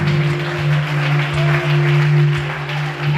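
A church congregation claps their hands in worship, a dense, steady applause that runs continuously over a low sustained musical tone.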